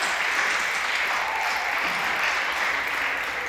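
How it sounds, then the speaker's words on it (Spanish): Sustained applause from a church congregation fills the whole stretch at steady loudness, a dense, even wash of many hands clapping with no voices standing out. "Denle el fuerte aplauso al Señor."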